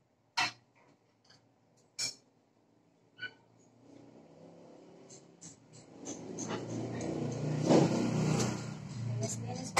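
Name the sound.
cars passing by on a roadside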